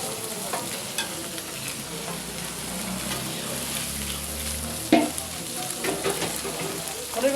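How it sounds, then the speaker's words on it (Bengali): Continuous crackling sizzle of chanda fish frying in hot oil, steady and close, with occasional clatter from the pan. "মাছ ভাজা হইতেছে তো নাকি?"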